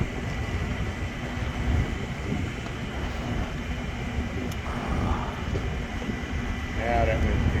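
A 100-ton air conditioner kicks in with a steady, loud broadband rush of blowing air and machinery rumble, continuous throughout, with faint voices now and then.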